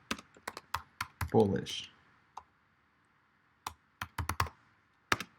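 Computer keyboard typing while notes are written: scattered bursts of crisp, close key clicks with pauses between, and a single spoken word partway through.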